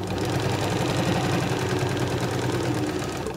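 A sewing machine runs steadily, stitching a 2.5 mm straight stitch through scrap fabric, with a continuous close mechanical whir and needle rhythm that lasts the whole stretch without pause.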